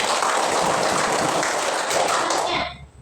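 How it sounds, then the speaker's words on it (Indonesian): A group of people claps together in dense, continuous applause that holds steady and then quickly dies away at the end. "Ya, tepuk tangan."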